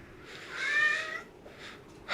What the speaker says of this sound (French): Ouais, le chat n'est pas content.